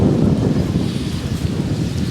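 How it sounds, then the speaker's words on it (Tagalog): Gusty wind buffets the microphone with a heavy, low rumbling roar that pulses unevenly and stays loud throughout the brief moment. "Mahangin."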